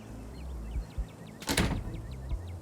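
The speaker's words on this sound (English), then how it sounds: "Dr. Kelly nods in acknowledgement and quickly shuts the door." In the Scarlet Hollow game, a door swings shut with a loud bang, framed by softer thuds and a string of small metallic lock clicks before and after.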